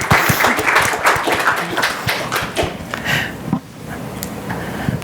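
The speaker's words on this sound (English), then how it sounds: "Let's do a round of applause" Audience applause at a customer success business conference, dense steady clapping from a crowd that holds loud for several seconds and then thins slightly toward the end.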